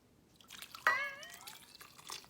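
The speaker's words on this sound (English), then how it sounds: "So now I'm going to add 4 cups of the potato water, the water that I boiled the potatoes in." Hot potato cooking water poured from a cup into a pot of potato soup: a short, close liquid splash and trickle with drips, alone and fairly quiet.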